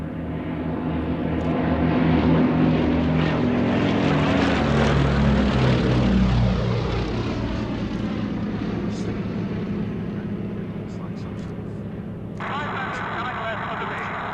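A Westland Lysander, a Second World War era propeller aircraft, drones loudly with a rich, steady engine roar that swells and holds before settling to a sustained hum, with a brighter tonal layer joining near the end.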